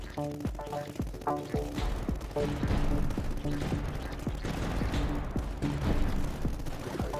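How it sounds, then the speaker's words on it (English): A light mortar fires repeatedly in the tower-defense game Tower Dominion, sharp thumping shots in a quick irregular rhythm over music and battle noise, with scattered distant bursts throughout. "The light mortar's doing a little bit of work there."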